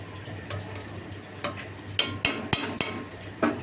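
Fish curry finished with garam masala and a little ghee simmers in a pan, giving off a low bubbling hiss broken by sharp, irregular pops and ticks, with no voices.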